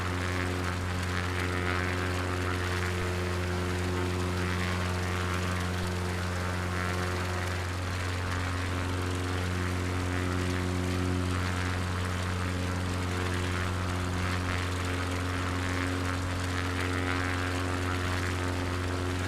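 A propeller plane drones steadily in flight in Microsoft Flight Simulator 2020 over Finland, a loud constant engine hum with even harmonics and no talking.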